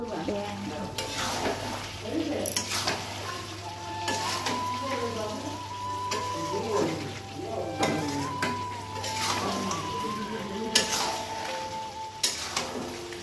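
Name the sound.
chicken being stirred and sautéed (kosha) in a pan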